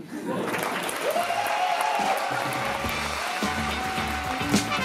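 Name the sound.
audience applause after poetry slam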